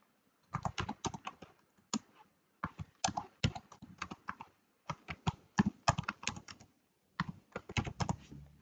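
A computer keyboard typed in quick bursts of clicky keystrokes as an email address is entered, with short pauses between runs, close and clear with no voice.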